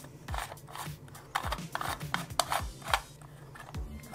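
A plastic Rosa 3D filament spool head being screwed on by hand, giving a close, dry rasping and rubbing run of short scrapes and clicks over about four seconds, with no talking.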